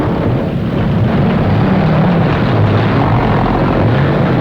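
A loud, steady roar of a propeller airplane engine at an airfield where an honor guard meets a landed aircraft, droning continuously and close without pause.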